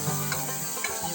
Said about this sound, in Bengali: তো তেলটা দিয়ে দিলাম, এখন দিয়ে দেব তার মধ্যে মেখে রাখা মোচাগুলো